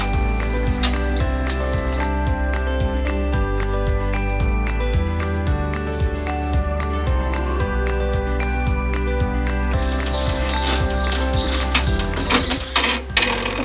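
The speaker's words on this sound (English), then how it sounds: "Now we're ready to embroider out the main design of this pattern." Embroidery machine stitching out a shell design through fabric and batting, a loud, steady, fast mechanical chatter of evenly spaced needle strokes running continuously throughout.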